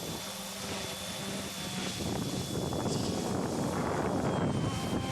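A GOOSKY E2 Venom RC scale helicopter, a small 200 to 300 class model, flies with a steady whining rotor and motor drone, a thin high tone running throughout and the whir swelling slightly as it goes on.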